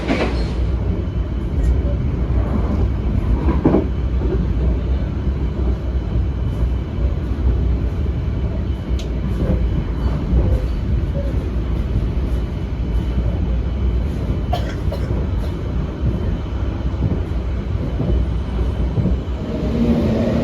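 Economy-class Ijen Ekspres passenger train heard from inside a carriage: a steady low rumble and rattle of wheels on rail fills the whole stretch, with occasional clanks and faint background voices.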